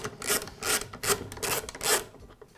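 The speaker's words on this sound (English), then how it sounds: "I'll loosen the bolt that secures the guard" A wrench loosens the bolt securing the blade guard on a Makita miter saw, giving four rhythmic rasping strokes, close and moderately loud, with short gaps between them.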